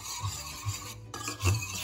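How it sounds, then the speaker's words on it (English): Whisk or spoon stirring French toast egg batter with vanilla extract and a pinch of salt in a bowl, a soft close rasping swirl with a few louder scraping strokes against the bowl. "Then just mix them all together"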